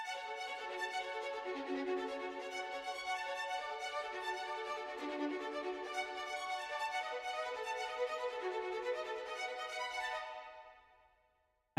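Sustained brass chords play together smoothly for several seconds, then fade out into near silence.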